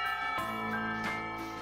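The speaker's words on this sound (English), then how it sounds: "When the final bell sounds" School bell chimes in the visual novel Katawa Shoujo, a sustained tonal ring with sharp strikes marking new tones and a long resonant decay, heard alone with no voices.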